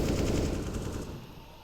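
Automatic AK rifle fire in CS:GO on the Nuke map, a brief loud burst of rapid shots that quickly fades away.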